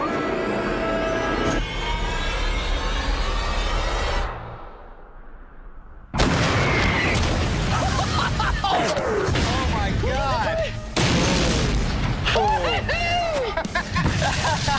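A World War II Sherman tank fires during a test run, heavy booming blasts breaking over a constant rumble, with a sudden quiet gap and people talking and reacting throughout.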